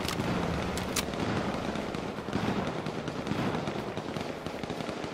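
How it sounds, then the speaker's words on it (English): Gunfire in the H1Z1 Battle Royale video game, a dense run of sharp overlapping shots and crackling bursts, loud and continuous over a busy game background. "They're shooting him."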